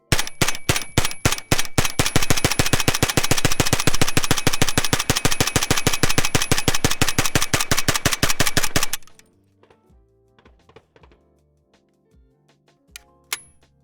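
PP-19 Bizon submachine gun firing a long, rapid, unbroken automatic burst, loud and close, lasting about nine seconds, then a few faint clinks and rattles in the quiet afterward.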